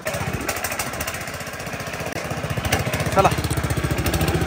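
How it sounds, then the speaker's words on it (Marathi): A tractor engine runs close by in a fast, steady chugging rhythm that grows slightly louder toward the end, with a brief voice over it. "कर चालू ट्रॅक्टर."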